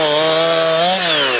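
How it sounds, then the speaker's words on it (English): Chainsaw cutting up fallen trees after a storm at a mobile home park, a loud, steady engine whine that holds, dips briefly and revs again, continuous with no talk. "The sounds of chainsaws echo throughout the Fairlane Mobile Home Park"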